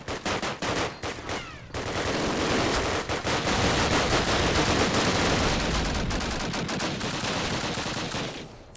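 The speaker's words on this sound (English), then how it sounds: "it looks like some of them are trying to man the MG42. The MG42 is really powerful" MG42 machine gun firing in Call of Duty multiplayer, with a few sharp separate shots at first and then a long, loud, continuous burst of rapid automatic fire that roars on for several seconds.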